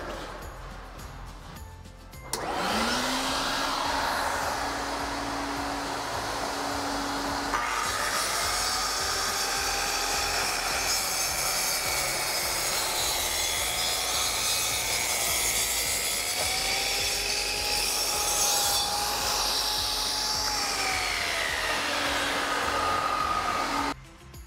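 A dust vacuum starts up with a rising whine and runs steadily while a Safety Speed panel saw cuts through a sheet panel, the blade's loud grinding rasp joining midway and dropping out near the end.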